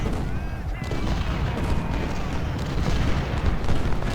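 Musket volleys and artillery fire rumble continuously through a Civil War battle in the game Ultimate General: Civil War. The dense booms and crackling shots run loud throughout, with a voice talking faintly over them.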